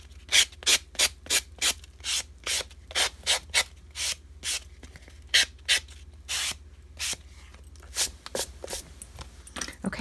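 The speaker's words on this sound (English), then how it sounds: "I'm just going to sand down." Steady back-and-forth strokes of sandpaper rubbing a handmade coaster edge, about two dozen close, crisp scrapes in an even rhythm with brief pauses between.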